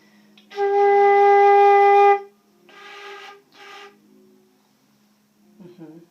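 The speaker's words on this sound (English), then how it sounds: "Now try producing a tone on your flute." A sustained breathy flute tone lasting about two seconds, followed by two shorter wavering notes, then a brief voice at the end.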